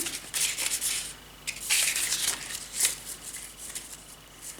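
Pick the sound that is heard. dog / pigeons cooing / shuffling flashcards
shuffling flashcards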